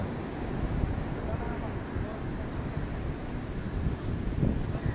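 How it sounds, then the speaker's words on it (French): Light wind buffets an outdoor microphone with steady low rumbling gusts throughout, rising slightly toward the end, under a quiet background. "il y a un petit peu un léger vent"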